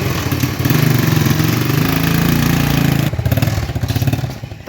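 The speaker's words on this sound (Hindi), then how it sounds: "पापा मोटरसाइकिल स्टार्ट करने लगे हैं।" A motorcycle engine turns over and settles into a loud, close, steady chugging idle, its rhythm shifting partway through, with no one speaking over it.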